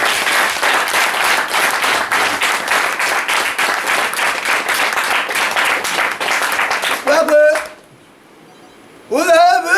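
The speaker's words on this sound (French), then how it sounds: "On applaudit ce bon lui." Audience applause at a coronation and distinction ceremony of the Ogboni fraternity: loud, fast, continuous clapping for several seconds, then cutting off abruptly, followed by a voice speaking.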